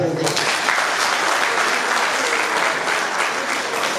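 At a 50th-anniversary celebration, an audience gives dense, steady applause that stays loud and even throughout.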